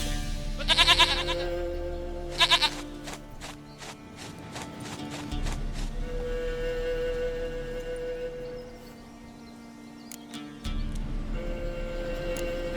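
Two short goat bleats from a village scene in The Witcher 3, separated by about a second and a half, ringing over a steady low game ambience with faint background tones and no talk.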